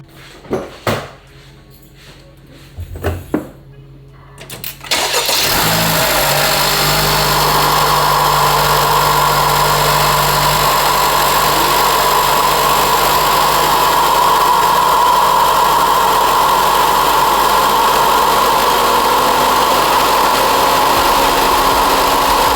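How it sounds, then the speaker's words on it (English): A Honda FL5 Civic Type R engine with a PRL Stage One intake cranks and catches after a few quiet clicks, then settles into a loud, steady idle with a strong whooshing intake roar that continues throughout. "I want you to hear the noise that it makes as soon as we start the car."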